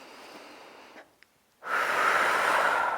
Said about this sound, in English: One more inhale.